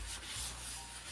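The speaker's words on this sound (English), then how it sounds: "and just buffing away the boot" A dry cloth rubs briskly over a wellington boot, giving a soft, continuous close-up swishing scrub with a gentle rhythm and no talking.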